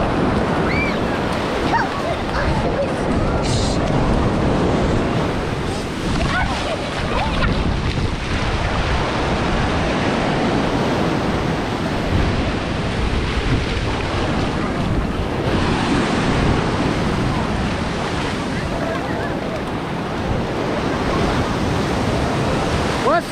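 Ocean surf at Ortley Beach, New Jersey, rolls and breaks in a continuous roar while strong wind buffets the microphone, with faint voices now and then.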